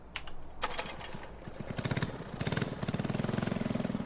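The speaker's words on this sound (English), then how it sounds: "So let's start this engine." A small Briggs & Stratton fuel pump engine starts up in Farming Simulator 19, sputtering in rough bursts before settling into a fast, steady mechanical putter that grows louder.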